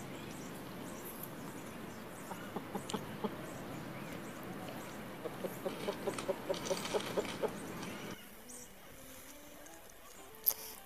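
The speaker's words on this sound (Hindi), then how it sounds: "एच एच फॉर हेन, हेन माने मुर्गी कोंबड़ी।" A hen clucking in a short series of quick, regular clucks, fairly faint over a soft background hum, then falling quiet.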